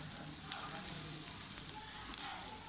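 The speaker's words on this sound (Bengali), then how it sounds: "এখন ভেজে সুন্দর করে নাড়াচাড়া দিয়ে একসাথে মিক্স করতে হবে" Onion, chili and lentils fry in a hot pan with a steady, dense sizzle that holds evenly throughout, with no one speaking.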